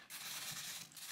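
Coarse sandpaper scrubbing across the soft copper of a printed circuit board makes a continuous close-up rasping hiss, with a brief break at the start and slight swells in the back-and-forth strokes.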